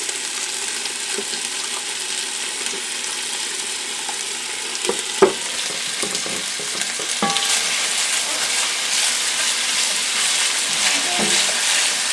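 Vidalia onions brown in a hot pan with a steady hissing sizzle, broken by a few scraping clicks of a utensil stirring them.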